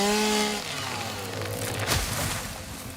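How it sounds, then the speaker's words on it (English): A chainsaw in the Satisfactory video game cuts through wood, its engine whining high at first and then dropping into a rougher, grinding buzz, fairly loud, with no talk. "What makes the chainsaw so great is even the wood on the ground, it's getting that."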